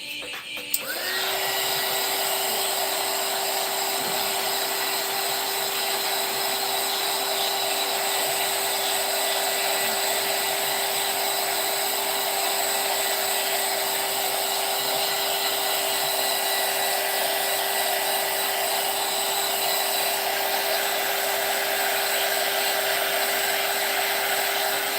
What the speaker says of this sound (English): if you have a chance to get a heater like this, get it. It makes crafting just a little bit faster